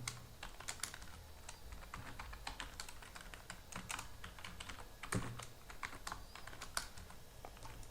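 Steady, rapid typing on a computer keyboard while a website script is written, with dense, even keystrokes and a few louder clacks running throughout, close and alone with no talk.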